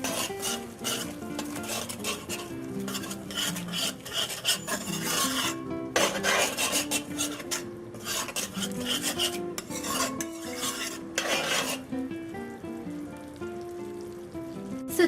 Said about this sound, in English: let it cook down with the curry